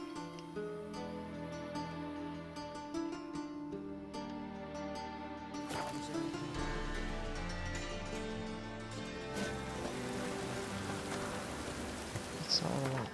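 Rain hisses steadily through The Witcher 3 alongside a layered musical score with sustained tones, the downpour soft and continuous under the music throughout.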